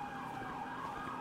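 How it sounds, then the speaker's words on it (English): Emergency vehicle sirens wail steadily through a short stretch, a continuous rising-and-falling tone that sounds moderately distant, with no talking over it. "the sirens getting closer."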